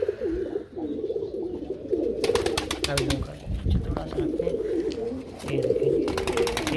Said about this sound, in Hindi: ये है ये हमारे कबूतर कॉलोनी।